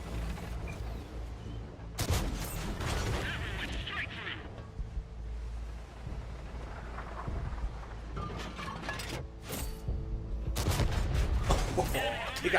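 Heavy artillery fire in the World of Tanks console tank battle game, with several deep booming blasts spread across the clip over a rumbling battlefield din, while someone talks throughout.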